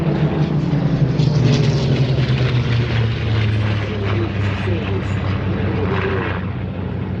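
A Spitfire propeller fighter passes at the Sywell airshow, its engine roaring loud and steady, then gradually shifting and easing slightly as it moves along, with no one speaking.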